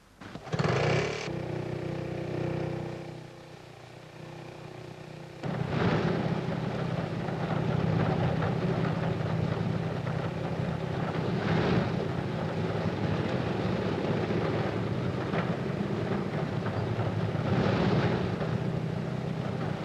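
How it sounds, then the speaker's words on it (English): Main engines of a Handley Page airliner, turned over by a tiny auxiliary motor, catch one after another: a near, steady piston drone that rises in steps as each engine joins, with wind buffeting the microphone and no talk. "Tiny auxiliary motor starts each main engine in turn."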